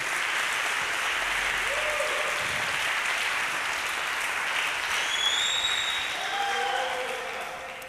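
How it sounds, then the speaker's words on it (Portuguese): A church congregation claps steadily and fairly loudly throughout, a dense wash of applause with a few faint voices or tones rising near the end. "Pode aplaudir bem forte a palavra do Senhor mesmo."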